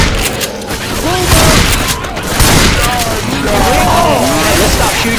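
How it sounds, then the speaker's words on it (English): Rapid gunfire and booms from the video game Left 4 Dead 2 run loud and continuous, with voices talking over the shooting. "Let's stop shooting each other, please."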